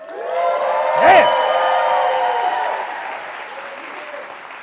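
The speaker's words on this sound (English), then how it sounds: "please applaud, cheer, and roar as loud as you can." A TEDx conference audience breaks into loud applause mixed with cheers and whoops, swelling quickly and then fading gradually over several seconds.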